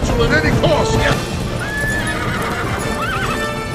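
Horses in the animated film Tangled neigh with a long rising whinny while hooves clip-clop throughout, loud and busy, mixed with voices and music.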